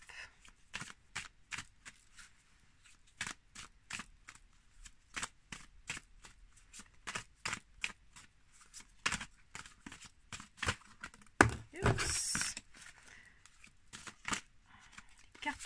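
Tarot cards are shuffled steadily by hand, giving a long series of crisp, quiet riffling snaps at an uneven rhythm with a brief louder flurry near the end.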